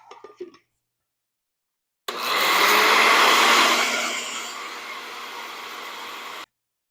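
A blender whizzes a vinaigrette dressing in one loud, steady burst of a few seconds that eases slightly before cutting off abruptly, following a brief clatter.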